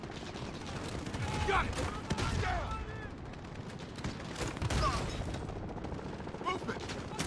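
Bursts of automatic gunfire and shots in the Modern Warfare campaign, mixed with shouted voices and radio chatter, loud and dense across the scene.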